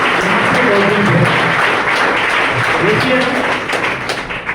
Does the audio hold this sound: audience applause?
yes